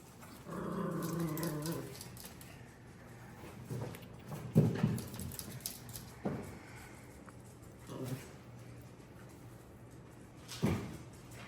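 Six-week-old puppies growl and yip at each other in rough play in a playpen, with bursts of snarling and scuffling, fairly close and uneven in rhythm.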